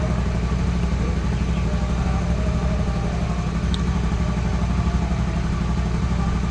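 Motorcycle engine running steadily at close range, a continuous low mechanical drone with light clatter as the throttle is opened, no clear rise in pitch, with no talk over it.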